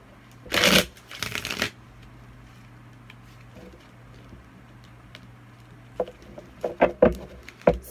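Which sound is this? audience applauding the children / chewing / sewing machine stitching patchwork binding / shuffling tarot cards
shuffling tarot cards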